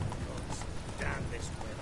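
Hooves of Roach the horse clop in a steady galloping rhythm in a video game, close and continuous, with a voice speaking over them.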